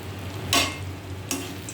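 Fried potatoes and nuts tossed into a hot pan of oil, two sharp bursts of sizzling as each batch lands, close up, with a steady frying hiss underneath.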